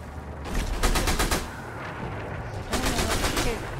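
Gunfire in the WW2 sniper game Sniper Elite V2 Remastered: two quick bursts of rapid, close automatic shots separated by a short lull with background battle noise.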